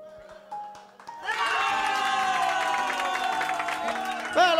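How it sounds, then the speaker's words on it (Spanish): Birthday serenade crowd bursts into sustained applause and cheering after a brief quieter lead-in, with bright music-like tones and voices mixed through the clapping. "Venga, los aplausos, señores"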